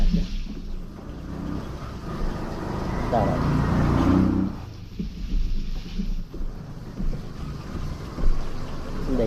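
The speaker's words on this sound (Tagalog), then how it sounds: "Tapos ang lakas ng hangin." Strong outdoor wind buffeting the microphone in a muddy field, a broad rushing roar that swells and fades, heard beneath people talking.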